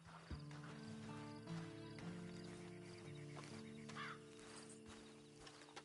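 Hooves clip-clop from a horse in the Red Dead Redemption 2 video game, laid over steady game background tones and a sustained musical drone, at a moderate level with no voice over them.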